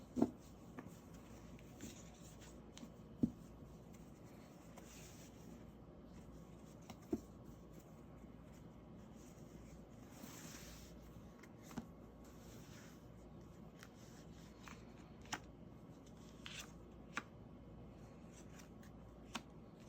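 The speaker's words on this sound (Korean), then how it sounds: "3번 뽑으신 분들 위해서 카드를 섞고 함께 보겠습니다." Tarot cards being shuffled by hand at a tabletop reading, soft papery riffles and light taps repeating alone at close range, quiet throughout with occasional sharper clicks.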